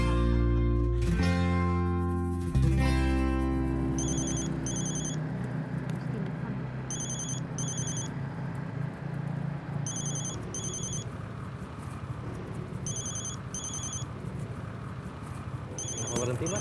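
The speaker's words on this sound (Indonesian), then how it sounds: "saya mau terima telepon dulu" A mobile phone rings inside a ride-hailing car, a repeating ringtone pattern in short bursts that returns several times over steady road and engine noise, with people talking in the car.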